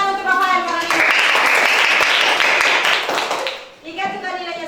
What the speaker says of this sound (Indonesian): Tepuk tangan untuk Rafael